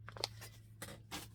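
Scissors snipping through fabric while cutting out a sewn top, a few short close crisp cuts at a quiet indoor sewing table.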